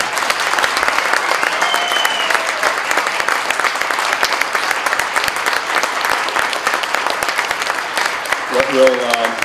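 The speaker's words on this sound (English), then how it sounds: "Round of applause now for all 3 of our finalists." Audience applause for three poetry recitation finalists at a competition, dense steady clapping filling the hall throughout, with speech and a brief tone near the end.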